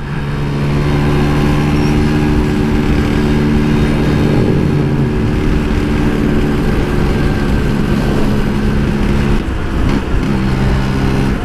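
A Vespa scooter engine idles steadily and loudly up close after carburetor jet tuning, holding an even droning hum with a slight dip in pitch midway and no talking.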